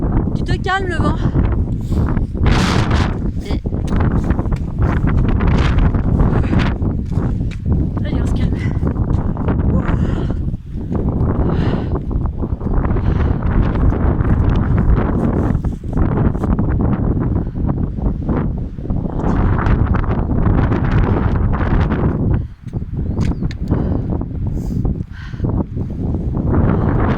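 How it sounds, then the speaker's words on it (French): Strong gusting wind buffets the microphone on a mountain summit at 2313 m, a loud rough rumble that rises and falls unevenly, with a person talking underneath at times. "Tu te calmes le vent."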